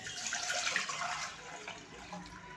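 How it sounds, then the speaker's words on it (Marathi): Water is poured from a bowl into a cooking pot in a home kitchen while lemon juice is prepared for storage. It makes a short, steady splashing pour, close and moderately loud, with no talking. "तर हे पातेल्यात पाणी मी ॲड केलेलं आहे."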